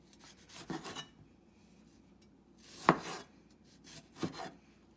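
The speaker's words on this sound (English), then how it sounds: "I am cutting the vegetable." A knife chopping vegetables into cubes for pork chops with tomato and onion, heard as three quiet, separate cuts against the board with pauses between them.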